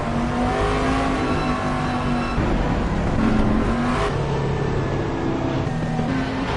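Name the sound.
GT3 race car warming up its tyres in a sim racing video game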